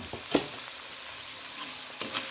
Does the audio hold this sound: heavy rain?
no